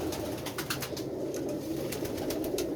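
A pigeon coos close by in soft, repeated low calls, set against a steady background hum and a series of faint, evenly spaced clicking taps.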